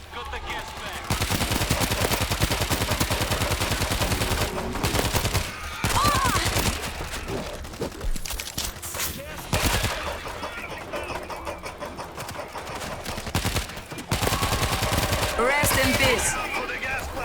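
Sustained rapid turret machine-gun fire in World War Z: Aftermath rattles loudly for most of the clip, pausing briefly a few times, with game sound effects and voices mixed in.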